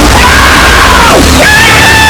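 A loud, sustained scream with a rising and falling pitch, fairly close and intense, over a noisy background.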